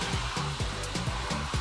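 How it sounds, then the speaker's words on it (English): A vacuum cleaner runs indoors in a house, passed over a cat's fur. Its motor whine surges in quick, regular pulses a few times a second, with no voices. "I'm trying to vacuum the house with a bad leg"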